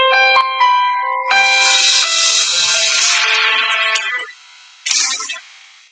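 A phone's remotely triggered locator sound rings loudly, an electronic tone, bright and chiming, for a few seconds before cutting off, then a short final burst.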